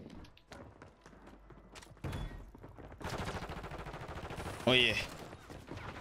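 Automatic Glock 45 pistol fitted with a switch, fired in Warzone, a rapid stream of shots in bursts that rises into a sustained louder volley, while someone talks over the gunfire.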